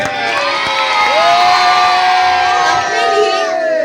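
A crowd of children at a Christian kids' gathering cheers and shouts loudly together, a sustained burst of excited high-pitched voices and whoops that swells and continues throughout.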